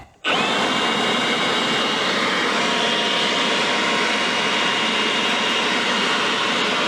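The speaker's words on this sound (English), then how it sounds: "Engaging leaf blower." A leaf blower motor whines up suddenly and keeps roaring at full strength beside an old GMC, a dense, steady blast of air noise close by.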